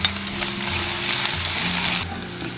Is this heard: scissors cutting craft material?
no